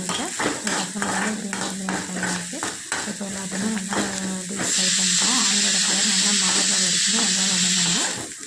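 Onions and green chillies sauté in a pan for a potato kurma, giving a steady close sizzle with repeated stirring scrapes. A voice talks over it, and the frying hiss grows louder and brighter in the second half.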